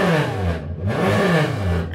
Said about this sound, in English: He got on the dyno over there.